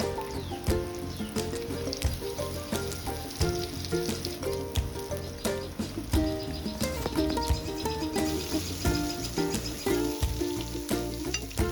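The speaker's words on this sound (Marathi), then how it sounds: "तव्यात तेल घालून तेल तापल्यावर एक एक काप सोडावे." Slices of chonak fish frying in hot oil on a flat pan, Goan style: a loud, continuous crackling sizzle with dense popping that carries on steadily throughout, close by, with no talking.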